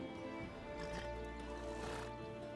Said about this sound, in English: How's your horse?